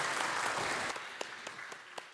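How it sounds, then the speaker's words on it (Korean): Church congregation at a Korean church Sunday worship service claps in praise after the choir's hymn, a full round of applause that thins and fades out, leaving a few scattered claps at the end. "하나님께 영광의 박수를 올려드리겠습니다."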